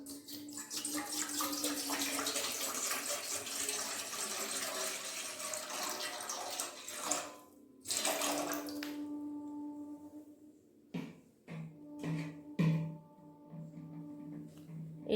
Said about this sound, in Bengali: এই স্টিলের গামলাটা বসিয়ে দিয়েছি, এতে জল দেব খোলটা করার জন্য।